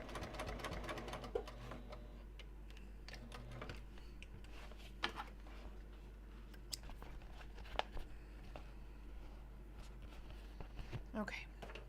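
A sewing machine stitches car trash cans inside a bus on the road, running as a steady hum with scattered ticks and clicks, while a person talks over it.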